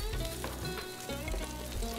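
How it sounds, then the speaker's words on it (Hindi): Battered food frying in hot oil over a low flame, a continuous crackling sizzle with bubbling pops, close and moderately loud, no voices. "ऑयल जब आपका अच्छे से गर्म हो जाए तो फ्लेम को आप स्लो करके और इसको फ्राई कर लेंगे।"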